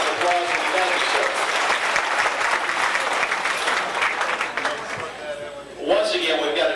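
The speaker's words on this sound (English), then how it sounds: "Give a nice round of applause and thank you, sir." Audience at a 1992 banquet of champions applauding steadily, a dense wash of many hands clapping close and loud, tapering near the end as a voice begins speaking over it.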